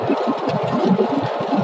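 Ford Focus C-Max engine with VGT pulling uphill under load in fourth gear with five occupants, around 3000 rpm; a steady, rhythmic low drone runs throughout, with no talking.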